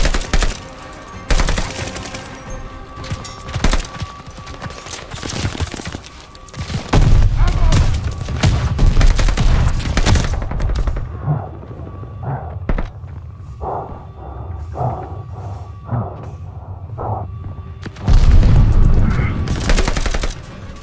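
Sustained rifle and machine-gun fire in Call of Duty: Vanguard rattles in heavy bursts near a submarine pen, with booming impacts and shouted voices over the battle.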